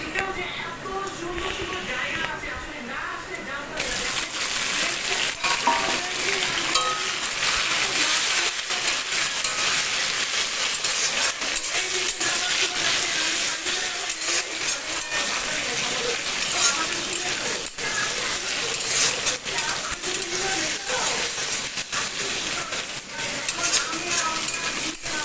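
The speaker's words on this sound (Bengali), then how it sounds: "আদা রসুন বাটাটা দিয়ে কষিয়ে আমি গ্যাসের ফ্লেমটা একটু আস্তে দিয়ে দিয়েছি" Onion, whole cumin, dried chilli, tomato and ginger-garlic paste sizzle steadily in hot oil on a gas stove, a constant close frying hiss with repeated scraping strokes of stirring throughout and occasional pan clatter.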